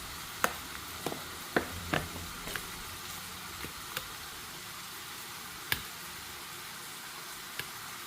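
Ground onions sautéing in a pan for Tamil chicken kulambu, a steady soft sizzle broken by a handful of sharp spoon taps and clinks against the pan, spaced out at irregular intervals.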